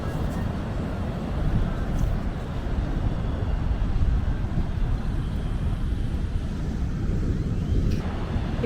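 Surf at Playa Zicatela in Puerto Escondido, Mexico, a broad, constant roar of large breaking waves mixed with wind buffeting the microphone, loud and unbroken throughout.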